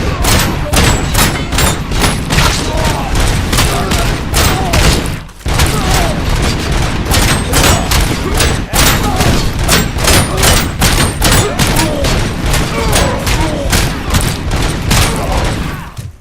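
Dense gunfire from the video game RoboCop: Rogue City rattles in rapid, loud bursts almost without pause, heavy shots and thuds piling up, with one brief gap; in-game voices shout under the shooting.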